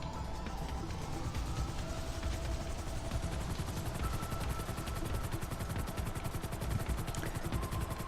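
A helicopter in Grand Theft Auto V, its rotor thumping in a fast, steady rhythm under a constant mechanical whine, loud and close throughout, with no voices.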